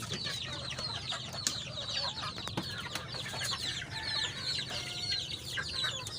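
A flock of chickens clucking and chattering continuously, many overlapping calls at moderate distance, with no voices.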